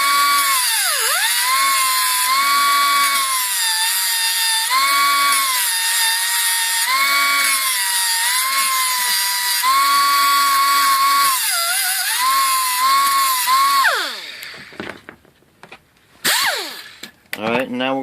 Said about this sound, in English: we'll just come in here and grind the side a little bit